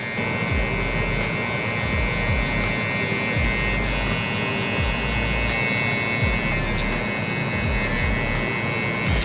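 Electric hair clippers fitted with a 0.5 guard cut curly hair during a low blowout taper, a steady close buzzing hum that runs throughout with slight pulsing as the blade passes, with no talking.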